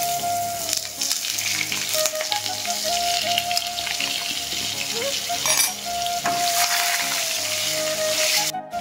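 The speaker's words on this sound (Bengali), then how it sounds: "কড়াইয়ের ভেতর আমি আলুগুলো ভাজার জন্য দিয়ে দিলাম।" Potatoes sizzle in a kadai of hot oil with cumin seeds, a close, steady frying crackle with brief stirring scrapes and a faint tonal hum underneath.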